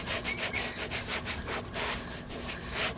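A damp microfiber cloth wipes an Alcantara suede steering wheel on a 1LE, giving steady, close rubbing strokes in a repeating rhythm with no talk.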